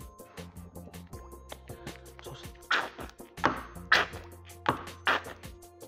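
Water poured in a few separate splashing bursts onto green premium paint for chalkboard painting, mixed with intermittent clinks and handling noises, fairly close with no talk.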